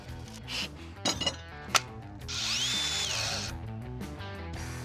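A power tool whines steadily for a couple of seconds cutting a wooden shed floor, preceded by a few sharp clinks and knocks, close by and fairly loud.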